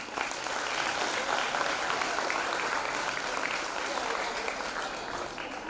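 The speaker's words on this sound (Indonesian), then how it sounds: "Beri aplaus untuk mereka." An audience applauds the nominees of a Sayyidah selection event with sustained, even clapping from a large crowd that holds steady for several seconds.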